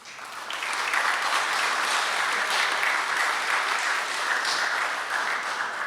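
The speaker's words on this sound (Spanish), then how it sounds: "Un aplauso para el doctor." Loud, dense applause from an audience at a formal ceremony in Peru honoring dignitaries, building quickly and holding steady as a continuous wash of clapping, close and full.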